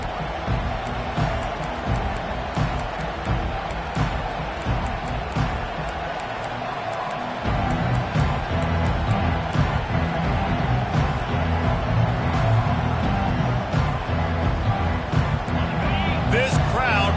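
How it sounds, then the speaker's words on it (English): Roaring stadium crowd in a Madden NFL football video game, a broad continuous wall of noise that swells louder partway through, with a commentator talking over it. "This crowd bringing an ear-splitting welcome to their visitors"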